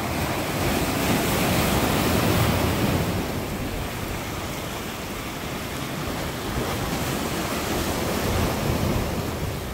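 Ocean surf breaking along a rocky shore at Ayajin while fishing, a steady loud wash of waves rolling in continuously with wind noise over the microphone and no talking.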